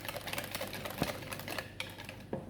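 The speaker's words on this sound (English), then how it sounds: "Give it a good whisk." A pudding mixture being whisked in a bowl, a quiet, rapid, rhythmic ticking of the whisk against the sides with a few louder knocks, with no speech.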